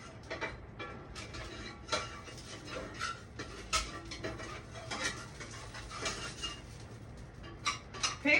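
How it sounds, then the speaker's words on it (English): Metal skillet being coated with ground beef grease, the oil rendered from cooking, for making homemade pancakes; light scraping and clinking of utensil against pan in scattered bursts, close and moderately loud, with no talking. "I'm just coating the skillet with oil"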